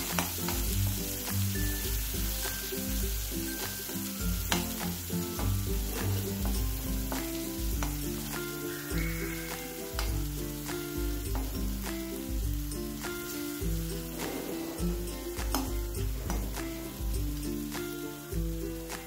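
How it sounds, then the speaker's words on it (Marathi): Ground masala for stuffed brinjal sautés in a pan, a dense close sizzle and crackle running throughout with frequent spoon scrapes and taps against the metal, no talking. "आपण वाटून घेतलेला मसाला, छान असं परतून घ्यायचं आहे"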